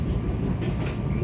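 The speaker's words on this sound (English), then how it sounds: "trains simply have to slow down just before" A SEPTA Regional Rail train on the Fox Chase Line slows ahead of a junction, giving a steady low rumble of wheels and cars with light rail clatter and no voices.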